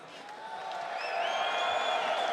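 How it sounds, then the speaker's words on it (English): A crowd cheers at a Real American Freestyle (RAF) wrestling event: a steady wash of many voices with whistles, swelling gradually louder across the stretch. "The crowd sure seems to like it."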